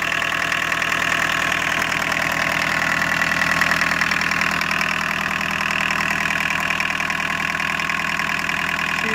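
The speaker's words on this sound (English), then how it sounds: "I'm sure that the microphone's picking up that turbo whine" A 1981 VW Rabbit pickup with a turbo diesel engine fitted with a VNT15 turbo idles steadily at close range, a continuous clattering diesel rumble with a high turbo whine on top and no talking.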